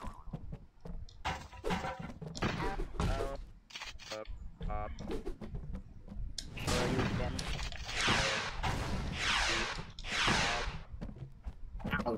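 Repeated shotgun blasts in the Clodhoppers video game, a rapid run of sharp bursts followed by heavier booming volleys, loud and close, mixed with game effects and a voice talking over parts of it.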